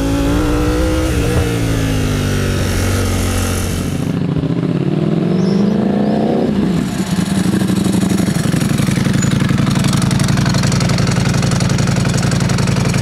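A Ducati Panigale V4 SP2 superbike engine, a low-mileage bike ridden hard, runs loud and close, its pitch sweeping up and down through revs and gear changes before settling into a steady, strong drone, with no talk.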